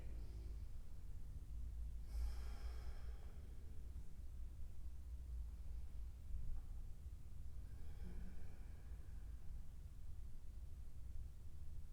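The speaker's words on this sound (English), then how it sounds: "5 slow, relaxing belly breaths" Slow, relaxing belly breaths drawn during a yoga vinyasa flow, two soft airy breaths a few seconds apart over low background hiss.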